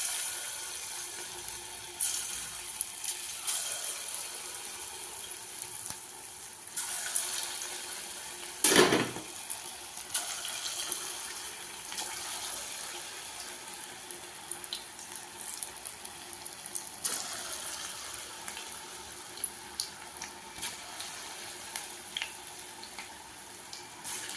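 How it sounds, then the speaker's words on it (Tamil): Idli batter bondas frying in hot oil, a steady broadband sizzle running throughout with a brief louder crackle partway through, no talking. "இப்போ எண்ணெய் காஞ்சிருச்சுங்க. இப்போ நம்ம கொஞ்சம் கொஞ்சமாக போட்டு எடுத்துக்கலாம்."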